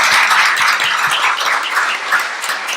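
An audience claps steadily for a Teacher of the Year award at a board of education meeting, a dense, even wash of many hands close by with no voices over it.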